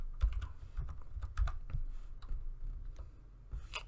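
Steady clicking of typing on a computer keyboard, close and fairly quiet, with irregular bursts of keystrokes and no talk.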